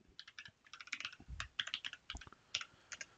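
Someone types a line of code on a computer keyboard, a quick, uneven run of close, crisp key clicks with brief pauses between bursts and no talking.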